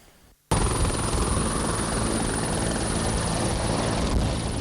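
Carabinieri helicopter of the 14th helicopter unit of Belluno in flight, a loud, steady rotor and engine roar that starts abruptly and holds close and constant with no talk.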